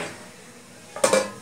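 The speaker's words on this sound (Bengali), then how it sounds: "একটা থালা দিয়ে চাপা দিয়ে দেবো" A metal plate is set down over a kadai in a home kitchen, giving a short close clatter of metal on metal after a second of quiet.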